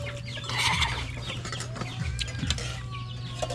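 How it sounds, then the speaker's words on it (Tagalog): Chickens clucking in a short burst, several birds close by over a low steady hum and rustling background. "Manok."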